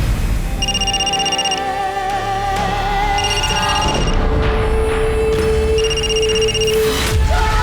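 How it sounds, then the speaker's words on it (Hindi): A telephone rings in repeated bursts, three rings spaced across the scene, sounding loud and close over a continuous tense background score. "देख क्यों नहीं रही किसका फोन है? कब से बजे जा रहा है, उठाना।"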